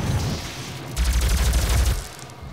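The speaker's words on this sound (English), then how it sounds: "I didn't know he was gonna shoot." Enemy gunfire from the video game DOOM crackles as a dense burst of shots, fairly loud, with a deep rumbling layer that swells for about a second before easing off.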